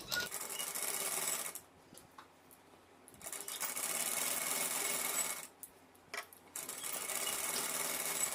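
Sewing machine stitching seams on a front-slit gown dress, running in long steady bursts broken by two short pauses, close and fairly loud with no talking.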